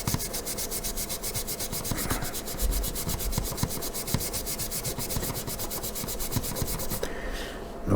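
Steady, rapid rasping scrape of plastic parts from a 1/48 scale Monogram C-47 model kit being smoothed down, close and continuous with a brief pause near the end.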